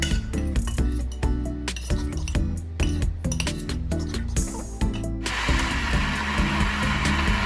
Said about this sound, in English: We blend all the vegetables.